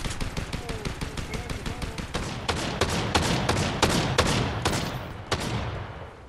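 Rapid bursts of gunfire from a Fortnite match crackle through a busy game mix, with dense volleys of shots repeating over several seconds and a few sharper single cracks standing out toward the end.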